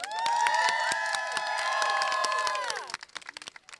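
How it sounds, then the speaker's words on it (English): Audience applause and cheering at a women entrepreneurs' day event at a state capitol, a loud sustained burst of clapping that fades to a few scattered claps at the end. "once again, give yourselves a round of applause."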